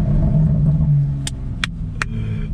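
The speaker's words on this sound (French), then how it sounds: "Et ça c'est juste l'échappement BMW." A BMW M2 tuned to 410 hp accelerates with a steady, deep exhaust drone heard from inside the car, broken by three sharp pops toward the end.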